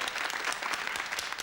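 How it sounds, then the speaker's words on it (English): An indoor audience claps steadily throughout, a dense, even patter of many hands with no pauses and no voices rising above it. "I don't know why you're all applauding him"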